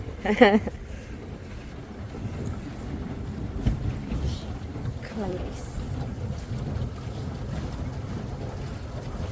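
A motorboat engine drones steadily on Nohur Lake in Gabala, Azerbaijan, in cold rain, with wind rushing past the microphone; voices are heard briefly at the start.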